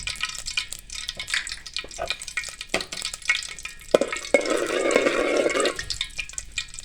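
Cardamom pods frying in about four spoons of homemade desi ghee, with a close, busy sizzle and crackle under repeated stirring and scraping. The frying noise swells louder toward the end.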